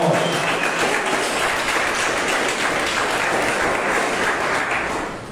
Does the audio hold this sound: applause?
yes